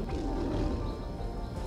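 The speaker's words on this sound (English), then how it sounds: "There's lions off going off out" Lions roar outside a den in the African wild, a deep, continuous, rumbling roar that sounds fairly close and loud throughout, with no talking.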